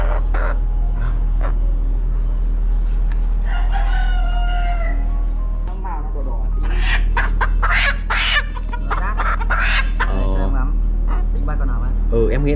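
Egyptian chickens with trimmed beaks cluck near the microphone, and a rooster crows loudly twice in the middle. People talk throughout, and the birds' calls break through the conversation.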